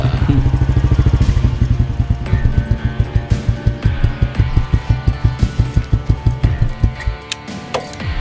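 A motorcycle engine idles and revs up close, its loud rhythmic thumping firing pulses steady and unbroken throughout, quickening slightly toward the end, with no talk over it.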